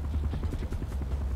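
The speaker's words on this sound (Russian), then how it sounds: "Вертолет слышу." A helicopter in the video game Far Cry 4 gives a steady, fairly faint rhythmic rotor thumping that pulses evenly throughout.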